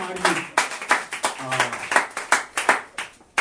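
A church congregation claps in steady rhythmic bursts during a Sunday worship service, with voices audible underneath the clapping.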